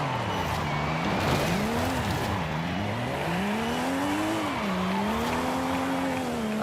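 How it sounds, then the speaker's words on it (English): A car engine in Forza Horizon 5 revs hard while drifting, its pitch swooping up and down with the throttle as tyres squeal underneath, loud and continuous throughout. "If you can hear the sound of the engine, you know when I'm throttling"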